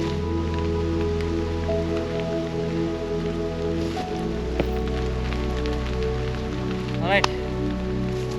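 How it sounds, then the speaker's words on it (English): Rain beginning to patter on a tent pitched outdoors on a windy night, a steady soft hiss of drops under a constant low hum, with a brief spoken word near the end. "Just in time as well. It's starting to rain."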